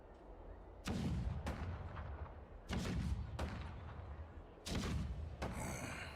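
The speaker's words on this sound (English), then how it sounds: "The rumble of the cannons." Heavy cannon blasts in the video game Honkai: Star Rail boom one after another, about six deep thuds with rumbling tails that fill the space between shots.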